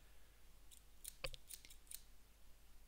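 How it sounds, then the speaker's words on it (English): Scissors clicking and snipping in a few quick, sharp bursts, faint and close against quiet room noise, with no voices. "Playing with scissors, by the way."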